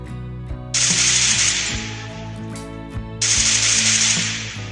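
Spray-fire gun in a video game, heard through Wings Phantom 340 wireless earbuds: two long bursts of rapid hissing automatic fire over a rhythmic background music beat, loud and alone.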